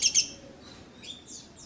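Caged lovebirds give several quick, high chirps nearby, with a sharp burst at the start and scattered thinner tweets after, and no voices.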